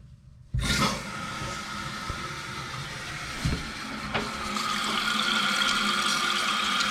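Water supply to a newly installed toilet is opened, and the tank begins filling with a sudden, steady rushing hiss that continues close and even, with a few small clunks along the way.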